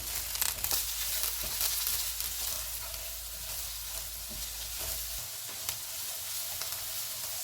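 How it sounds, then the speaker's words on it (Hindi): Capsicum and cabbage fry in a pan for fish fried rice, giving a steady, dense sizzle with crackle and occasional stirring scrapes, close and continuous throughout. "दो मिनट के बाद शिमला मिर्च और बंद गोभी डालेंगे। इनको भी 2 मिनट तक भूनेंगे।"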